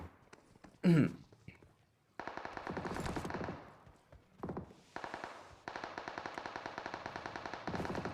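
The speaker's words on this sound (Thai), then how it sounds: "ได้ยินเสียงปืน" Rapid bursts of automatic gunfire in PUBG Mobile crackle in long sustained volleys, loud and near, after a brief sharp blast at the start.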